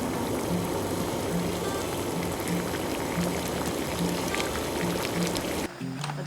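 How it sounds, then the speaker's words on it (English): Water for fire noodles boils hard in a pot, a dense, continuous bubbling and rolling simmer heard up close, ending with a brief shift in sound. "Water is boiling."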